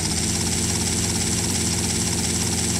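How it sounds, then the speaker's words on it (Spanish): A helicopter engine in GTA Vice City Stories drones in a steady, loud, continuous whir with low rotor throb, no talk over it. "Sube al helicóptero."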